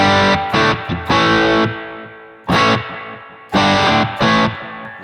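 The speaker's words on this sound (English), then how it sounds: "kind of distortion with a little bit of delay and stuff like that" Sonicake Pocket Master multi-effects pedal playing a distorted guitar patch with delay, several loud sustained chords struck in bursts, each tail ringing and decaying between hits.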